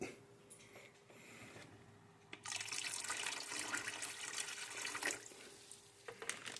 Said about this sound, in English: Now we're going to take some distilled white vinegar and pour it in.